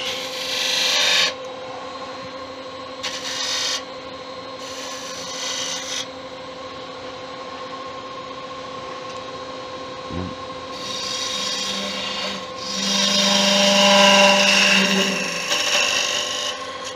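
A wooden Venus figurine spinning on a lathe as a cutting tool shapes and rounds it, producing intermittent scraping, rasping cuts over the steady motor hum, with louder bursts near the end.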